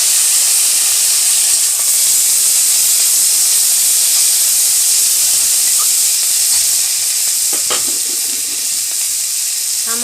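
Chopped tomato hisses and sizzles in hot oil in a frying pan while a Bengali soyabean malaikari is cooked, a steady loud frying hiss with a few faint clinks of stirring and no talk.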